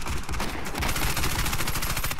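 Rapid automatic gunfire in the video game Warface, a dense, loud, continuous stream of shots from a Calico M955A with no pauses.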